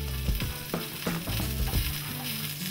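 A piece of veal sizzles in hot olive oil in a pan, a steady close frying hiss with scraping, clicking stirring sounds and no voices.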